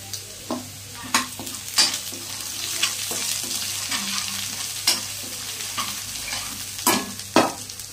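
Ginger garlic paste and turmeric frying in a pan for paneer masala curry, a steady sizzle with a spatula stirring and scraping in periodic strokes, close and fairly loud with no talking.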